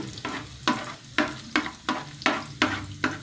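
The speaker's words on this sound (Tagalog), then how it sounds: "Kailangan mo nang i-brown-brown yung bawang." Garlic sautéing for shrimp in a pan, with a steady sizzle and a regular series of spatula scrapes and stirs, about seven strokes, close and fairly loud.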